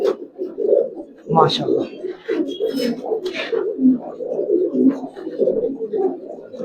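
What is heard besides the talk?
old-breed Giribaz pigeons cooing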